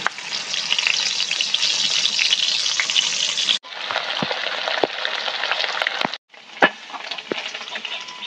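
Fish frying in a pan of oil, a steady, close crackling sizzle with brief breaks and a few clinks as the pieces are moved.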